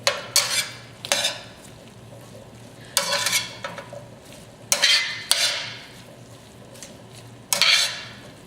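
Ingredients get stirred in a frying pan in bursts of scraping and clinking utensil strokes, each lasting about half a second, separated by short pauses under a soft sizzle.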